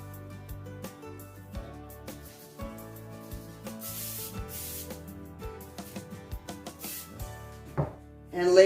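Cooking spray hisses in a short burst onto plastic wrap in a home kitchen, a soft airy spray close by, heard over quiet background music.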